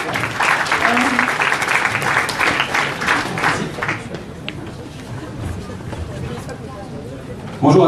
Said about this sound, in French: on en fait un petit round d'applaudissements